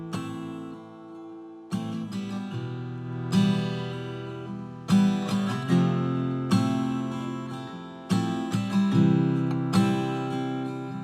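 A home-recorded acoustic guitar song demo made in GarageBand has strummed chords arriving in regular bursts about every one and a half seconds, with the ringing strings close and moderately loud and no voice heard.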